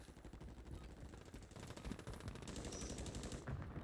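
Gunfire in the Warzone video game from a sniper rifle: steady, dense rattling shots layered over a continuous game background, fairly quiet and distant-sounding, with no voices.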